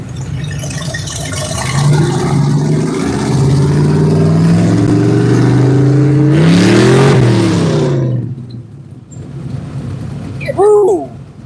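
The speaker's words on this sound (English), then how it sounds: "Somebody's leaving some gas on the parkway." A car accelerates hard on a parkway, its engine revving up through rising and falling gear sweeps for several seconds, loud and close, then fading; a brief tire or engine chirp follows.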